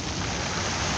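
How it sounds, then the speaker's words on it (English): Water washes against the shore at Dumbo Park in Brooklyn, a close, steady hiss of surf with a faint wind rush behind it for one continuous second. "I like where the water is hitting there."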